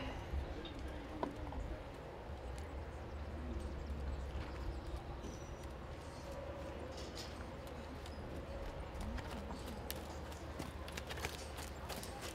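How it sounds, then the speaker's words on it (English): Horses trotting in a 4-H horse and pony equitation class, with faint, steady hoofbeats in an open arena against background murmur and distant voices. "Trot your horse, please."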